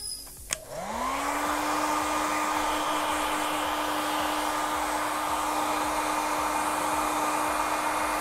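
Hair dryer blowing steadily to dry freshly airbrushed neon yellow paint on a softball helmet, switching on after a brief click and then running loud and continuous with a constant whine.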